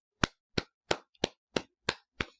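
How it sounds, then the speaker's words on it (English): Seven slow, evenly spaced hand claps ring out alone, crisp and fairly close, in a deliberate golf-clap rhythm. "you got to give him a golf clap"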